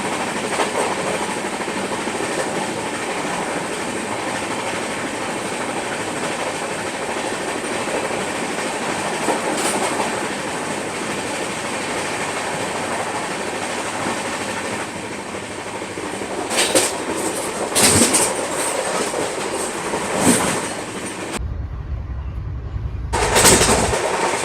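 Chennai Duronto Express train running non-stop at speed between Jhansi and Bhopal, heard from inside a 3AC coach: a steady loud rumble with rhythmic clickety-clack of wheels over rail joints, brief louder bursts near the end.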